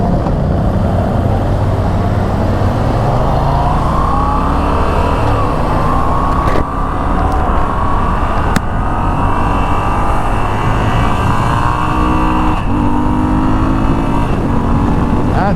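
A Moto Guzzi V7 Stone motorcycle engine drones continuously while riding, its pitch climbing gradually as it accelerates, with steady wind rush and a few brief clicks.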